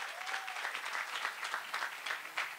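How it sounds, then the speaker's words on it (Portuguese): Sustained applause from an audience at a mayor's public announcement event, dense steady clapping with no pauses, moderately loud throughout. "uma salva de palmas"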